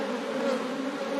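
Honeybees buzz in a full, crowded hive being expanded, a dense, steady drone heard up close and continuous with no voices.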